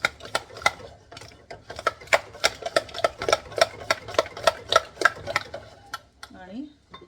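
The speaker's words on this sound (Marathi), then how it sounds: "हे चांगलं प्लेन फेटून घ्यायचं आहे आधी." Plain yogurt being whisked for Maharashtrian kadhi: a brisk, steady run of sharp clicking strokes against a bowl, close and regular, tapering off at the end with a brief low voice.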